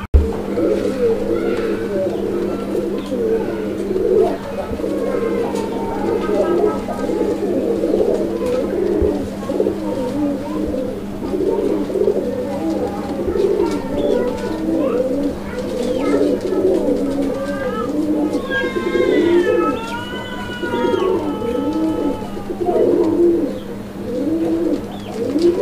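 Raj Golla and Madrazi Golla pigeons coo continuously in a dense, rolling chorus close by, with a steady low hum and a few higher calls underneath and occasional voices at a bird market.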